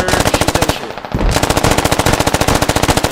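Sustained rapid automatic gunfire in the Squad military shooter game, loud and close, a fast even rattle of shots with a brief pause near the one-second mark before the burst resumes.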